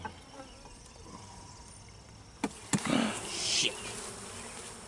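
Agitated honeybees buzz around an opened hive during an inspection, a dense droning hum that swells louder toward the end with a few sharp knocks and handling noises close by.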